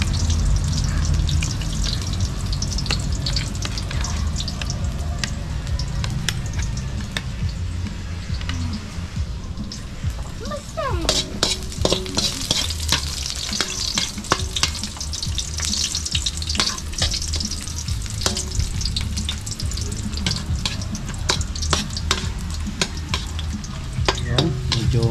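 Food sizzles loudly in a pan, browning while a utensil scrapes and stirs it now and then. The frying stays steady and close for the whole stretch.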